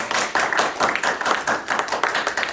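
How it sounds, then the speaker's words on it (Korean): A lecture hall audience at an insurance sales seminar applauds in brisk, continuous clapping that fills a short stretch, moderately loud and close. "박수 부탁드립니다."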